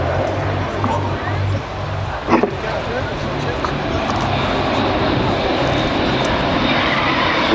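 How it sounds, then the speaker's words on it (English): A huge airliner performing a flying display at the Farnborough Airshow, its engines a steady, loud roar over a crowd, with people talking throughout and a brief thump midway. "Inside the boundary of Farnborough, this huge airliner, as it's showing."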